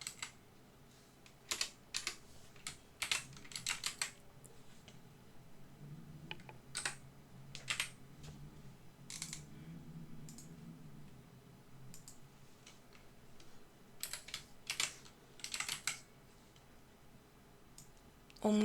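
Quiet, irregular bursts of keystrokes on a computer keyboard while text is typed into a PowerPoint text box, with scattered clicks and brief pauses between words.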